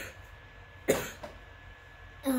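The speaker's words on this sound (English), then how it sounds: "I just got a cough." One sharp, close cough bursts out, followed by a smaller throat-clearing hack and another short cough at the end, over faint background hiss.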